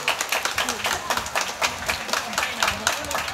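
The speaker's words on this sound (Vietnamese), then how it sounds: "Chúng ta một tràng pháo tay để chúng ta chào mừng những anh chị em đó." Congregation at a Catholic prayer gathering giving a round of applause, a quick rhythmic clapping from a crowd that stays moderately loud with voices under it.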